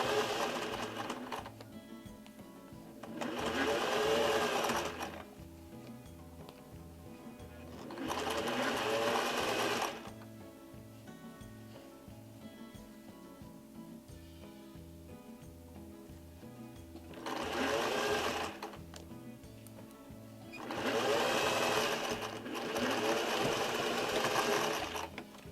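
A home sewing machine stitching denim while turning jeans into a skirt, running in steady bursts of a few seconds separated by quieter pauses, close up, with faint talk in the background.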